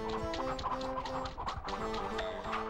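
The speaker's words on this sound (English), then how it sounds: "Those are not chickens, those are bald eagles." Bald eagles cry in the N64 video game Duck Dodgers, a busy run of harsh, clucking bird calls repeating over game music and effects at moderate volume.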